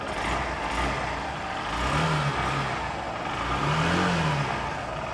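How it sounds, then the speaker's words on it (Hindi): Honda Shine 100 motorcycle engine revved with the throttle, rising in two swells over a steady idle, close and fairly loud with no voices. "थ्रॉटल देता हूँ"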